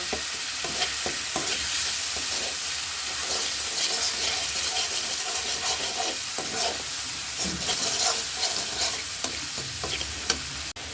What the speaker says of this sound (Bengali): দিয়ে মশলাটা পুরো ভেজে নেব,